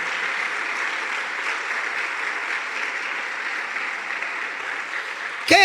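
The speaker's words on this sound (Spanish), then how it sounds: "Pero un fuerte aplauso a nuestro Rey." Sustained applause from a church congregation during a Spanish-language sermon fills about five seconds evenly, then a preacher's voice cuts in loudly at the very end.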